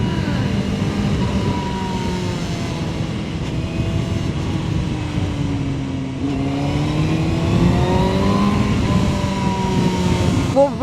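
A CF Moto 750SR-S motorcycle accelerating hard in first gear, its engine note rising steadily and holding loud and close for several seconds, with a voice talking over it.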